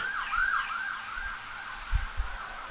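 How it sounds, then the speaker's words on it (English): Emergency vehicle sirens wail outside, heard through an open balcony door, a faint, distant rising and falling tone with a couple of low thumps near the end and no talking. "And you'll hear plenty of those sirens."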